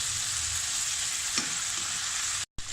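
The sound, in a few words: chicken frying while stirred with spoon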